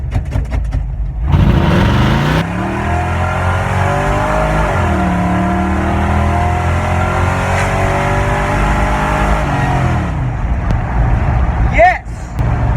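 A 1974 Chevrolet Nova engine runs loudly up close after a vacuum advance adjustment, revving up and settling in long swells, its pitch rising and falling with a brief shift near the end.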